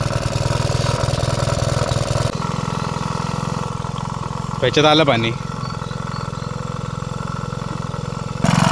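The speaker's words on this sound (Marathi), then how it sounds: "चला मशीन चालू झाली" An engine-driven spray pump machine runs in a mango orchard, giving a steady mid-pitched motor drone throughout. People talk over it the whole time, with a brief louder burst near the middle.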